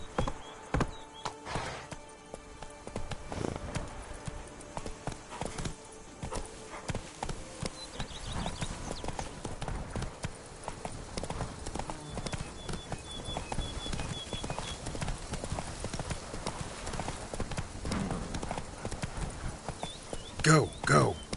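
A horse gallops steadily in Witcher 3's Blood and Wine expansion, its rhythmic hoofbeats pounding continuously and close, with occasional snorts, while a voice urges it on over the galloping.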